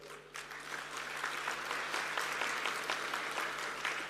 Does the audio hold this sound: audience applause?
yes